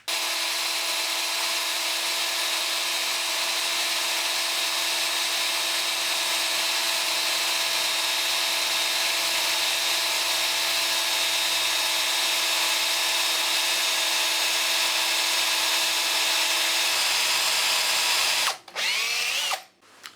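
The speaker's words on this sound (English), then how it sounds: "I'm going to use a small diameter drill bit first." A power drill with a small-diameter bit, lubricated with cutting paste, bores steadily into a broken bolt, a continuous close whine holding for nearly twenty seconds before cutting out briefly near the end.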